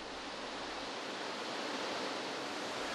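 Floodwater rises at a river lock, its control station underwater, giving a steady, dense rushing roar of water with no pauses throughout.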